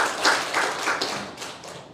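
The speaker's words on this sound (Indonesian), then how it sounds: "Tepuk tangan dulu buat Tuhan." A church congregation claps together, a short burst of scattered hand claps with a few stronger beats, close and without talk.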